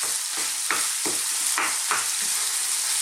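About 300 grams of minced beef sizzles on high heat in a pan while it is broken up and stirred. A constant close hiss is punctuated by several sharp scraping strokes, with no talking.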